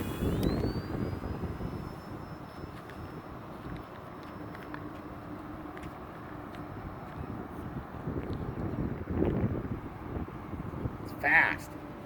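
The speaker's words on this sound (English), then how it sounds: "Let's see if we can get a slow pass here." An E-flite AT-6 RC model airplane with a 1.5 m wingspan makes a slow pass with takeoff flaps at about 25% power, its engine drone faint and distant under wind, followed by a brief louder swell near the end.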